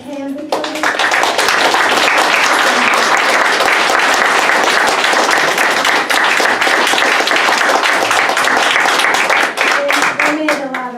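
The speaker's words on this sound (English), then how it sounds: "let's give them a really big hand" An audience in a hall bursts into loud, sustained applause that holds steady for several seconds before tapering off. Many hands clap together, with a voice briefly audible beneath the clapping.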